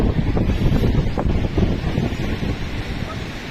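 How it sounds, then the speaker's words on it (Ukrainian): Wind buffets the microphone with low rumbling gusts while waves slosh and surge nearby; a voice may be faintly present underneath. "А хвилька, хвилька яка. Я і вітер дує, да?"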